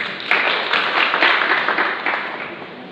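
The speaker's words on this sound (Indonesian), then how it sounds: "Kita beri tepuk tangan Amang." An audience at a Batak community's Bona Taon celebration claps for a committee chairman about to speak, a dense, even patter of many hands close by, lasting a few seconds without talk.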